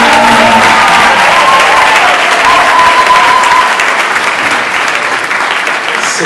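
A church congregation applauds the Lord, loud dense clapping filling the space steadily for several seconds before easing slightly toward the end, with faint voices mixed in.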